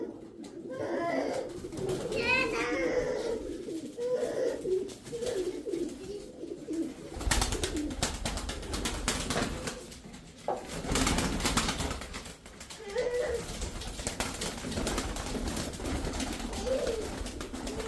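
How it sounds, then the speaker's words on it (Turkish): Flying pigeons coo steadily in a low, throaty murmur, several birds close by, with occasional rustling and wing flutters in the background. "Bu kuşlarımızın hepsi aktif, uçan, hepsi hazır, uçup oynayan kuşlardır"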